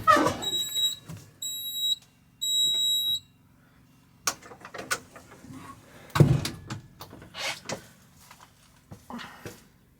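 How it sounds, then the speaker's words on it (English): A fire alarm panel sounds its trouble signal during a house power outage: three short chirping beeps near the start, followed by clunks, handling noises and shuffling. "Fire alarm is in trouble."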